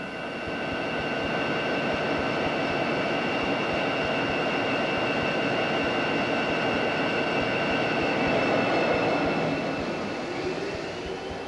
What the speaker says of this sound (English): Today's diesel engines are safe and efficient, but still require attendance